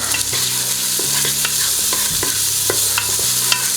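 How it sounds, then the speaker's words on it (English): Celery, garlic and herbs sizzle steadily in a pot for venison chowder while a utensil stirs them, with repeated scraping knocks against the pot over the constant frying hiss. "Next, our garlic, our herbs. Give that a stir."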